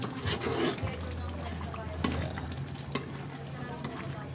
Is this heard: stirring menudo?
yes